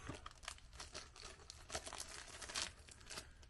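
Crinkling and tearing of plastic bag packaging during unboxing, steady rustling with sharper rips, close and fairly quiet.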